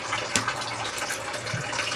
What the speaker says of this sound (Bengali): দেখুন তেল দিয়ে দিই কড়াতে